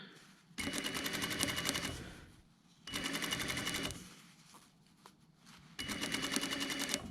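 A sewing machine stitches a jacket pocket seam for a double-piped flap pocket in three separate bursts of rapid, close mechanical whirring, with quiet pauses between them.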